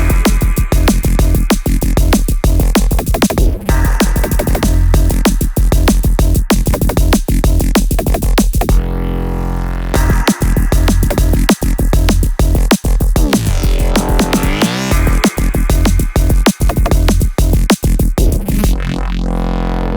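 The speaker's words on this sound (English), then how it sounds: "So we've got this crash and this bass fill." A loud, dense electronic beat made in Ableton Live with heavy bass and sharp drum hits, a cymbal crash ringing out and a rolling bass fill, no talking.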